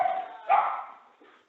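A dog gives a brief whining bark, close by and moderately loud, that trails off into a fading whimper.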